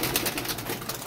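Soft pigeon sounds, faint cooing and light bird noise, as pigeons are released and fly off, brief and quiet.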